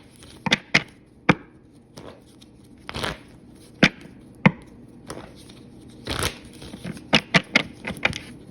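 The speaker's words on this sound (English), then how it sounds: "So let's shuffle and see what we get." A deck of tarot cards is shuffled by hand, giving irregular sharp slaps and brief riffling bursts up close, separated by short quiet gaps.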